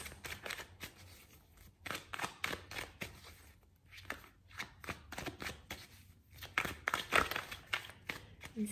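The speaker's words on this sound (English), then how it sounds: "So let's shuffle some cards." Tarot cards shuffled by hand in a series of quick papery riffles and soft taps, bursts separated by brief pauses, close and fairly quiet, with no talk.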